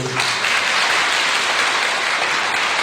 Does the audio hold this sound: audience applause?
yes